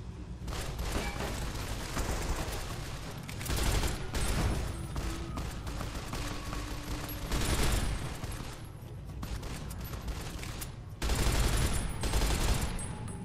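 Sustained light machine gun fire from the Fallout: New California mod for PC, rattling in long continuous bursts with brief gaps, loud and dense throughout with no talk.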